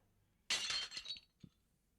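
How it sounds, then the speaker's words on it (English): A glass candle jar strikes a wall and shatters: one sharp, bright crash, then a short spray of tinkling shards and a small final clink, loud and close against silence. "The glass jar shatters on impact, raining shards onto the tile below."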